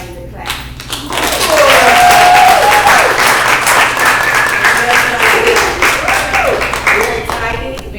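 A live studio audience at a talk show claps loudly and steadily for several seconds, with voices and cheering mixed into the applause throughout.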